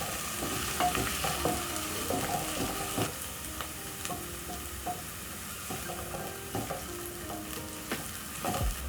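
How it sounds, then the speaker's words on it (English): Onions cook over a medium flame in a pot for green peas curry, sizzling steadily. Regular spoon scrapes and knocks keep a loose stirring rhythm throughout, with no voices. "I'm using medium flame to cook my onions"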